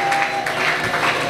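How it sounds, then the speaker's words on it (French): Congregation clapping together in a church service, a steady dense patter of applause filling the space without a break. "Est-ce que tu peux encore acclamer le Seigneur là où tu es?"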